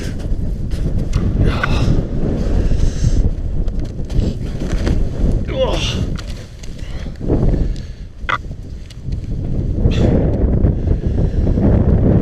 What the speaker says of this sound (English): Wind's picked up.